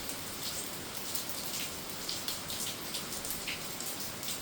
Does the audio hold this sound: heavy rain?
yes